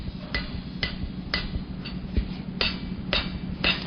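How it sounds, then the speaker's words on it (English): Hammer blows on hot steel bent over the corner of an anvil while forging a woven steel handle, about seven sharp strikes at a steady, unhurried pace over a low background rumble. "you want to bend the top of the head down over the corner of the anvil"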